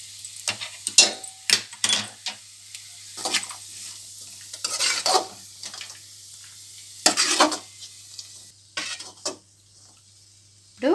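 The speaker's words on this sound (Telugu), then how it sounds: "మెల్లగా ఫ్రై చేసుకుందాం." Dry fruits fry in a pan while being stirred, giving scattered bursts of scraping and clinking over a low sizzle, with quiet gaps between the strokes.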